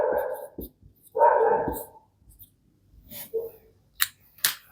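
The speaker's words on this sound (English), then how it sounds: "you might hear a dog barking outside my house" A dog barks a few times at a distance outside a house, sharp and intermittent, with quiet gaps and some clicking noises.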